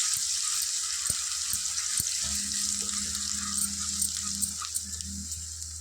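Blended onion paste frying in a pan for a mutton liver curry, a steady bright hiss of sizzling oil with a low hum underneath and occasional faint clinks, no talking.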